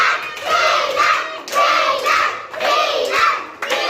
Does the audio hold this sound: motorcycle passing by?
no